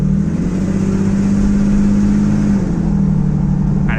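A Mercedes OM606 diesel engine heard from inside while driving, a loud steady drone and rumble with a sustained low tone that shifts slightly partway through, no talking.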